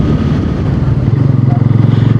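A motorcycle rides along a road toward Bakkhali in West Bengal, its engine close and loud with a throbbing, pulsing drone that grows more rhythmic as the ride continues.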